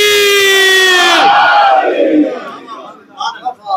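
A congregation at a Muharram majlis gathering shouts a slogan in unison, a loud sustained crowd chant that slides downward and breaks off, followed by scattered fainter voices.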